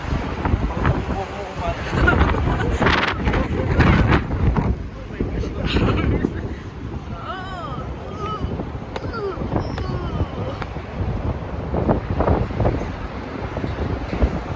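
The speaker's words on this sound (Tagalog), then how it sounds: "Ang hangin." Gusty wind buffets the microphone in low rumbling blasts, with people talking intermittently over it and water sloshing nearby.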